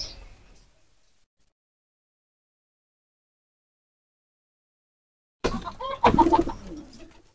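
Racing homer pigeons in a loft give a brief burst of throaty cooing near the end, after a long stretch of near silence that follows a faint sound at the start.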